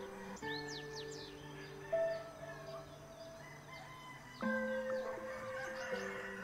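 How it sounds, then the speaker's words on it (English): Morning forest ambience full of birdsong, with a rooster-like crowing call and scattered chirps and whistles over a steady background, in a sunny woodland setting. "The next morning was full of sunshine and birdsong."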